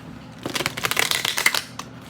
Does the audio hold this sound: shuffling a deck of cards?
yes